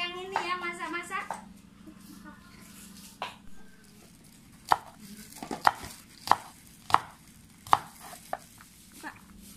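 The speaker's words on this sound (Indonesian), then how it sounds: "Mau motong-motong daging, buncis," A knife chops meat and green beans for home cooking with a series of sharp, regular thuds on a board, following a child's chatter near the start, fairly close and moderately loud.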